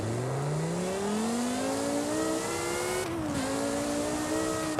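A car engine in the Forza Horizon 5 racing game revs up steadily through the range. There is a brief dip like a gear change, then it pulls on, loud and continuous.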